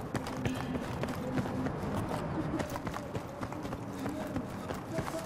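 Running footsteps in the video game Battlefield 3 thud in a quick steady rhythm amid gear rattle and background game noise, with a voice talking over them.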